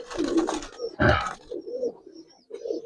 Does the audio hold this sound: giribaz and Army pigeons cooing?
yes